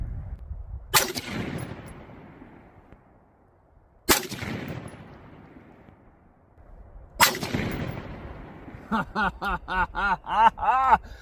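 Three loud rifle gunshots ring out a few seconds apart during a scope test at a target with a Gideon Optics Guardian 1-10x28 scope, each sharp crack trailing into echo, followed by laughter at the end.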